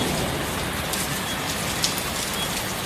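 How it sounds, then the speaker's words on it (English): Steady rain pours down on a house in a dense, even hiss with occasional sharper drops standing out, close and continuous, no voices. "It's raining."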